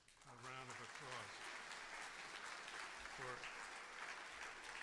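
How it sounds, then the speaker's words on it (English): An audience applauds a group of U.S. ambassadors, a steady wash of clapping that continues under a voice speaking at the start and again midway. "Let's give them a round of applause"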